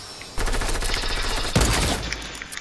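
Long-range gun fire in Fortnite, a dense sustained volley of shots with a heavier blast partway through, loud and near, then trailing off.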